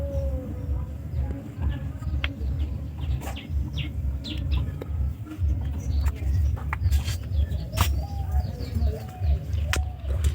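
Domestic pigeons cooing inside a pigeon house, soft low coos running steadily under scattered chirps and small clicks, close and continuous.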